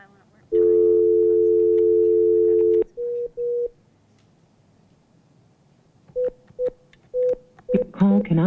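Telephone network tones after a failed call: a long steady tone, then short beeps and tone bursts with a few dialing-like blips at the end, loud and clear with no talk.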